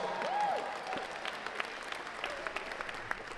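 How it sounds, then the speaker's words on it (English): An audience at the Dania Beach State of the City event giving a round of applause, fairly distant steady clapping with brief voices near the start. "The Broward Public School System, give them a round of applause."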